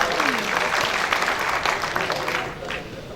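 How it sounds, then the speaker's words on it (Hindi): A crowd at a political rally for the Suheldev Bharatiya Samaj Party in Uttar Pradesh applauds, a dense burst of clapping that tapers off, with speech mixed in. "जोरदार ताली बजा करके उनका स्वागत करिए।"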